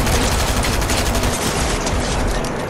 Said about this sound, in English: I'm using the assault rifle and the pump shotgun.